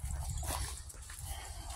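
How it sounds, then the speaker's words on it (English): A dog whimpers during a walk in a park, giving faint, high whines over steady outdoor noise and a low rumble. "Very, very happy dog right now."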